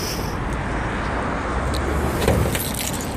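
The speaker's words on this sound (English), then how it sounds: "Don't take my keys out of my vehicle." Car keys jangle in a steady metallic rattle as they are pulled from a vehicle during a roadside police traffic stop, with faint road noise underneath.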